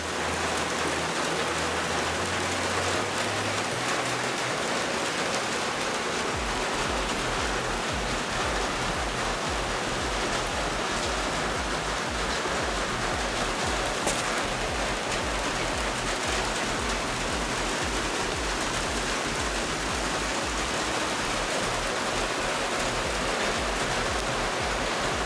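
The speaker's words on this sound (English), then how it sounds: "It's raining, it's raining." Steady, dense rain pours down at a retreat, a broad unbroken hiss with no pauses, loud and continuous throughout.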